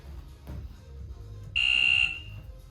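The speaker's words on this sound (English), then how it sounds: "So I'm gonna start my timer." Workout interval timer starting during a stability ball leg and glute routine: a single loud, steady electronic beep tone lasting about half a second, heard over faint room noise.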